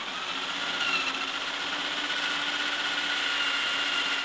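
A steady, loud whirring drone runs without a break as a power drill bores into wood at close range.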